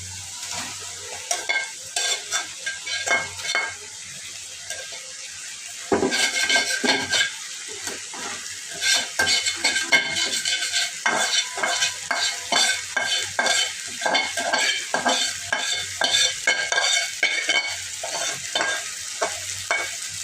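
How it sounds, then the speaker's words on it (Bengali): Fried fish being stirred through spices in a pan: a steady sizzle under repeated scraping and tapping of a spatula against the metal, close and continuous, growing busier partway through, with no talking. "এখন আমি এটা একটু উল্টানি পাল্টানি দিয়ে মশলার সাথে তারপরে একটু ঝোল দিয়ে দিব।"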